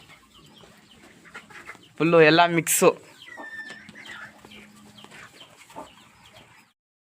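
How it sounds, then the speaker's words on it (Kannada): Country chickens of the Tamil Nadu Salem breed cluck in a loud, close burst lasting about a second, with quieter bird calls scattered around it and faint talk in the background. "ಇದೇನು ಕೋಳಿಯಪ್ಪ ಇದ ಹುಂಜ?"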